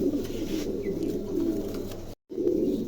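American lakka fantail pigeons coo softly and continuously in a low murmur, close by, with a brief pause near the end before the cooing resumes.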